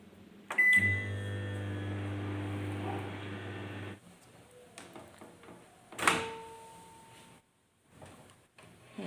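Microwave oven humming steadily for a few seconds while food sets inside, then falling quiet, followed by a door clunk and scattered handling clatter.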